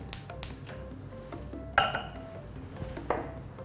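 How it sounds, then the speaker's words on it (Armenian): A small pot set on a kitchen stove to heat milk gives a few quiet, sharp metallic clinks and clanks, spaced apart, against a low hushed background. "Փոքրիկ կաթսան դնում ենք կրակին"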